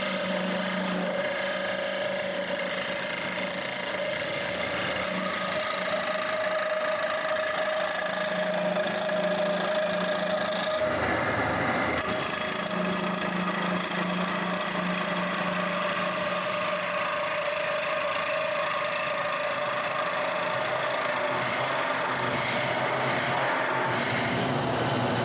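A wood lathe runs with a crude homemade duplicator and follower fitted, a steady droning motor hum with a constant whine, continuous and close, briefly interrupted midway.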